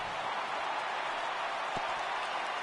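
A stadium crowd of about 39,000 in a baseball video game on PS4 roars steadily as a constant, moderately loud wash of cheering and applause, with no distinct voices standing out.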